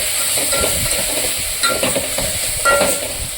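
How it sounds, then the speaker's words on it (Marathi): A tomato and chicken pulao mixture with paste is sautéed and stirred in a pot, giving a steady close sizzle with soft scraping stir strokes and a few louder scrapes, no talking. "व्यवस्थित चांगलं परतून द्यायचं हे सगळं व्यवस्थित परतलंय"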